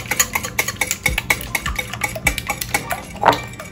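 Eggs being beaten for French toast, a utensil clinking rapidly and unevenly against a bowl, close and fairly loud, with no talking.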